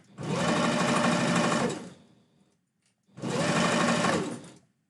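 A sewing machine stitching fabric for a blue husky tail runs in two loud, close bursts of rapid steady whirring, each about one and a half seconds long, with a short quiet pause between them.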